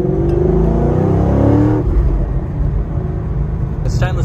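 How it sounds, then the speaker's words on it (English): Dynomotive-built LS3 6.2L V8 with a small cam kit, stainless headers and high-flow cats, idling with a loping, uneven rumble close by, a brief rev swell near the start before settling back to idle. "You can hear the roll of the cam, which is awesome."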